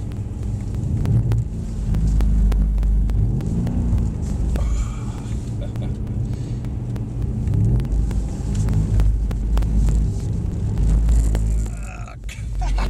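Mercedes-AMG C63S driven on a race track, a deep engine rumble with wind buffeting heard from inside the car, rising and easing through corners as occupants talk quietly.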